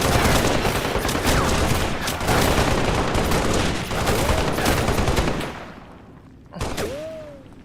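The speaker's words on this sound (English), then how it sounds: "That's a machine gun." Machine gun fire in a Halo video game rattles in sustained rapid bursts, loud and close, among explosions, then cuts off and gives way to a short whooshing sweep.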